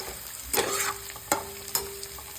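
Onions, garlic and vegetables fry for fried rice, a steady close sizzle broken by three sharper scraping stirs of the spatula in the pan.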